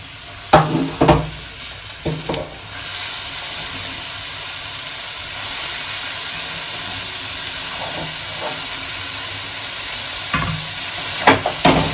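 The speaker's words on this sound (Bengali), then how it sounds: "এবার আমি এটার মধ্যে শাকটা অ্যাড করে দিচ্ছি।" Water spinach greens stir-fried in a pan with lightly fried lentils give a steady hiss, broken by a few sharp scraping and stirring knocks near the start and end, with no talking.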